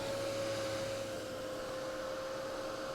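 A heat tool drying stencilled card blows a steady, close, even whir with a thin high whine running through it for a few seconds, with no talking.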